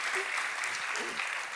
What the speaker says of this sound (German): Also hui, Applaus für euch